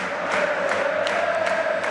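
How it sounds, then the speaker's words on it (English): Steady roar of a football crowd cheering during Charlton v Hull City, a continuous dense mass of voices with brief sharper shouts rising above it, no talk on top. "It's a goal that has set the crowd alight."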